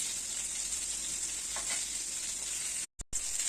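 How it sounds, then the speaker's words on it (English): Fish fillet fries beside carrots cooking in a covered pan, giving a steady close sizzle and hiss that breaks off briefly near the end. "So I'm just going to cover up for my carrots and let them cook for 3 minutes."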